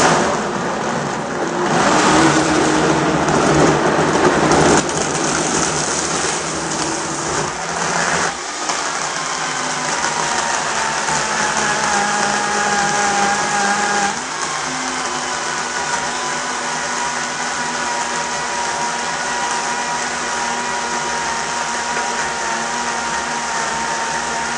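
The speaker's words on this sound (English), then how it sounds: "now let's blend this up here" A blender whirs loudly and continuously as it purees a carrot and apple smoothie, the motor's pitch shifting as the contents break down, with no talking over the steady roar.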